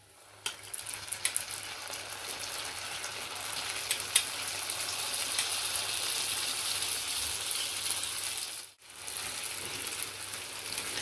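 Beef spring rolls (lumpia) frying in very hot oil make a dense, continuous sizzle with a few crackling pops near the start and a brief break toward the end.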